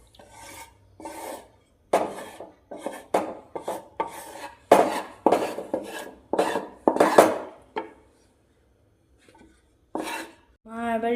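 Rasgulla semai being poured from a cooking pot into a dish, with a series of clanking, scraping metal knocks from the pot and utensil, close and irregular, then a brief pause and a final scrape.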